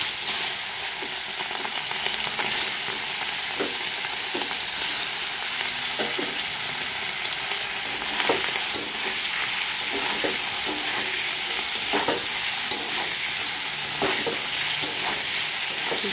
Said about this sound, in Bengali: মাছটির এবার কড়াইয়ের মধ্যে দিয়ে দেব।